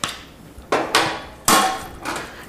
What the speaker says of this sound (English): Go ahead and mash it to pulverize the rest of the apples down.